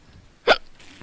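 A single sharp hiccup bursts out loud and close, a brief voiced catch in the throat amid otherwise quiet background during a wrestling video game session.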